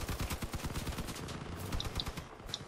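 Automatic weapons rattle in rapid, uneven bursts during vehicle combat in the game Crossout, loud and close, with sharp metallic hits scattered through the fire.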